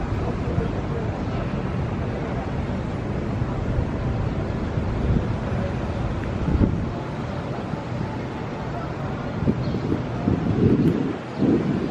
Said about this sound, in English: Yeah, it's really windy out here.